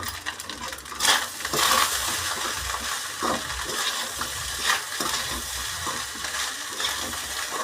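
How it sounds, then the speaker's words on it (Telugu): Food being stirred in a frying pan: a constant sizzle broken by repeated scraping and metallic clinks of a utensil against the pan, close by and irregular in rhythm. "చూడండి, చూడండి కలుపుతున్నాను"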